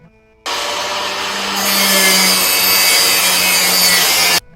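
Steady, loud abrasive rubbing of a sander grinding down a new Lodge cast iron skillet, continuous for several seconds with a slight rise in intensity partway through.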